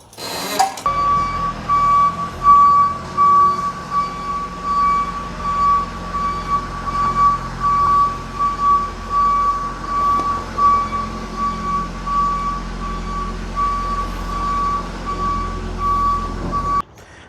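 Ford Ranger truck being pulled out, an idling engine rumble under a steady, evenly repeating reversing beep that runs loud and close nearly the whole time.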